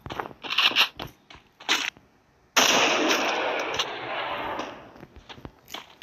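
FAMAS rifle fire in the Free Fire game comes as several short, sharp bursts, then a brief lull and a longer sustained rattling stretch that tapers off, all close and crisp.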